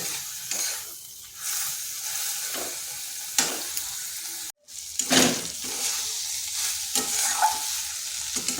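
Bitter gourd fries in a pan over low heat, a steady soft sizzle broken by repeated scraping stirs of a spatula, with a brief pause partway through.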